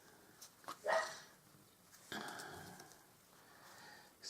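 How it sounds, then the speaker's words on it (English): A dog barks faintly somewhere in the background of a quiet indoor room. There are a few soft, distant yips and rustling sounds, but no talking. "Excuse the dog in the background."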